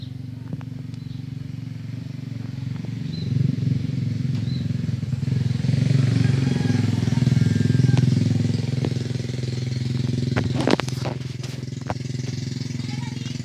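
Motorcycle riding uphill in the highlands, a loud, steady engine drone throughout with gusting wind noise and a brief clatter late on, voices talking faintly underneath.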